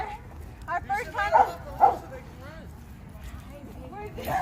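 Golden retriever puppies about four months old and other dogs at a dog park give scattered yips and barks at moderate distance, mixed with a few short whimpers, while people talk nearby throughout.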